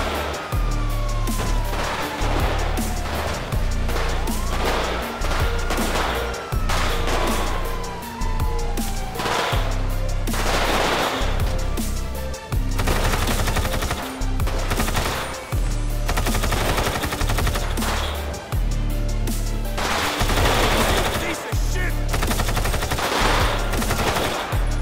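Repeated bursts of automatic gunfire in a GTA 5 zombie survival game, loud volleys coming every second or so over a wailing police siren and traffic noise, continuing throughout.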